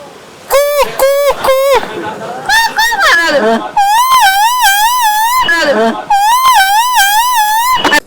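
A voice imitates a wailing fire engine siren, rising and falling in long looping whoops after a few short cries, loud and close.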